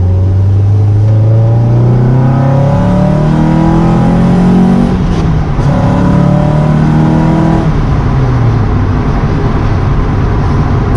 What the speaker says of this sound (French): Puis t'as le moteur qui est juste derrière toi